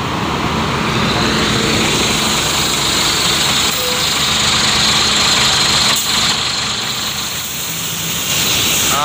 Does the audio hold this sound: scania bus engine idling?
yes